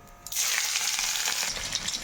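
Chopped green chillies frying in hot oil for a roasted-eggplant dish. After a brief quiet start, a loud, steady sizzle with dense crackle takes over and fills the rest of the moment.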